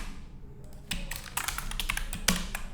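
Clicky computer keyboard keystrokes tap in quick, irregular bursts as room numbers are entered into a Laravel school exam-schedule form. A quiet pause comes first, then steady close-up typing follows.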